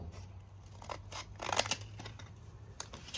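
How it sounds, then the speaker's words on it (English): Scissors snipping through a sheet of sandpaper to cut it in half, a series of close crisp cutting strokes with papery rasps and a brief sharp click near the end. "So I got the sandpaper cut in half and just cut it like this."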